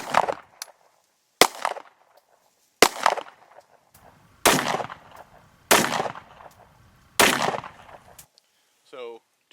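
A Remington R51 pistol fires six sharp, loud shots at a steady, unhurried pace about a second and a half apart. A faint voice is heard briefly at the end.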